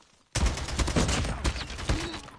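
A sudden, loud, sustained burst of rapid automatic rifle fire in a Call of Duty Mobile match, close and continuous for about two seconds.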